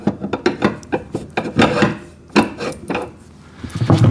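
A metal axle slides through the wheel mount of an Albott auto-feed electric drain cleaner machine. Close scraping and rubbing come in quick rough strokes with short pauses, with no one talking.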